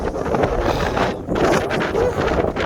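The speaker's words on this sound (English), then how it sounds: "That wind's blowing on me, probably 25 pounds of force." Strong gusting wind roars and buffets the microphone continuously, a loud, rough rushing that swells and dips without pause.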